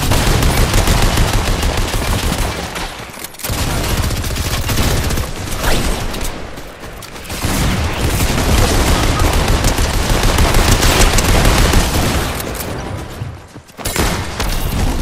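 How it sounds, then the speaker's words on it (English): Gunfire in the Fortnite video game, dense and loud bursts of rapid shots and booms running almost continuously, broken by a few short pauses. "Oh, who's shooting me?"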